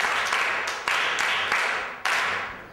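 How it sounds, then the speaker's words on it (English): A school class clapping for a classmate in a classroom, several loud bursts of clapping in quick succession, each dying away quickly, with no talking. "Please clap hands for Obani."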